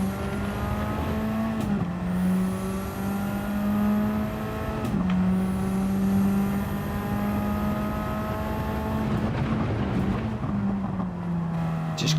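Race car engine in Gran Turismo 7, droning loud and close as it climbs through the revs, with abrupt drops at gear changes and brief tire squeal. No voices are heard.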